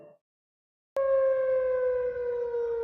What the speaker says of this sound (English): Actually hear the tornado sirens.